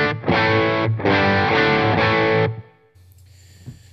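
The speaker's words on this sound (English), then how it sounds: "Morning Glory versus the Tube Screamer for this particular full humbucker sound" An electric guitar with a humbucker pickup runs through a Morning Glory overdrive pedal, giving a few loud, warm, driven chord strums that ring out and cut off, leaving faint amp hum.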